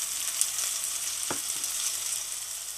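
Onions frying in a pan give a steady, faint hiss of sizzling, with one brief stir or clink partway through and no talking.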